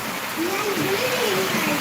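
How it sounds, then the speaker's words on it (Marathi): Steady rain falling over a village, a continuous broadband hiss at moderate loudness with a voice speaking over it. "पाऊस झाला भाऊ चालू"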